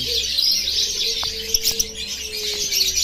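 Violet PB Ewing lovebirds chirp at a bird seller's stall: short, sharp chirps and tweets scattered over a steady high hiss, with a faint tonal whistle running through.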